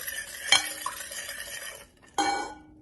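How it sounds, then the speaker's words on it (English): A spoon clinks and scrapes against a bowl while sugar is stirred into a coleslaw dressing of white vinegar, short and quiet strokes broken by a brief pause and then one sharper clink. "Let's just stir that in"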